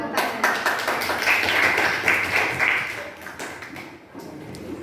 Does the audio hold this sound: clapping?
yes